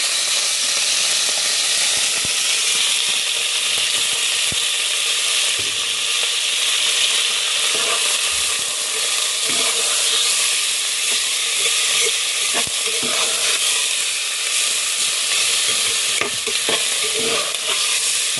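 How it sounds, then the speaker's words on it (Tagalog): Meat sizzles steadily with ginger in a hot pan, a dense continuous hiss broken by scraping and clinks of stirring, close and loud throughout with no talking, as the base for a meaty lugaw (rice porridge). "Gisahin na po natin yung ating karne"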